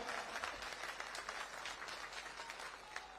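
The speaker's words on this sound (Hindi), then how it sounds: "मेरे मित्र और आपके लोकप्रिय प्रत्याशी श्री रमेश विदुड़ी जी के लिए जोर से ताली बजाइए जरा" Crowd applause at an outdoor political rally in Kalkaji, Delhi, greeting candidate Ramesh Bidhuri: a steady, dense wash of many hands clapping, fairly soft and distant, continuing evenly throughout.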